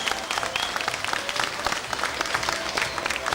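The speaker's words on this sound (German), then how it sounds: "Bitte einen Riesenapplaus für alle unsere Hollywood-Stars!" Studio audience applause for the stars of a Hollywood show on a 1997 German stage program, a steady dense clapping that fills the whole stretch without letup, with faint crowd noise underneath.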